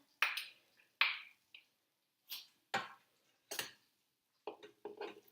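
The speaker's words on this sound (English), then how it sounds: "So serve the spaghetti onto your pasta bowl." Spaghetti served into a pasta bowl produces sharp clinks and clatters of utensil on dishware, about eight separate knocks spaced irregularly, close and crisp against near silence.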